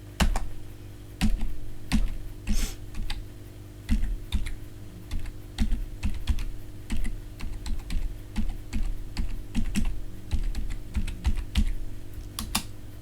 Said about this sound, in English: You type in your password, which will come up.